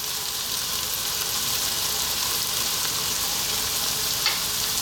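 Ingredients for Jamaican curry chicken, seasoned with salt and black pepper, sweat down in a pan with a steady, close hiss of frying, interrupted only by a faint utensil tap near the end.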